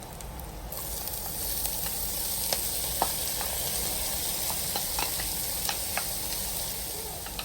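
Onion, meat and spinach fry together in a pot with a steady close sizzle, punctuated by light clicks and scrapes of stirring, with no talk.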